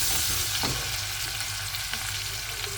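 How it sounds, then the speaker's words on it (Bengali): Spice paste frying in a pan for taro roots with shrimp gives a steady, close sizzle with faint stirring scrapes, continuous and fairly loud throughout, no voices. "কচুর মুখির জন্য মশলাটা আমি কষায় নিচ্ছি"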